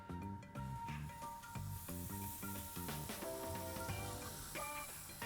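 An egg fries in hot oil in a pan as the first step of a Korean pajeon seafood pancake, giving a steady close sizzle and hiss, with faint background music and no talking.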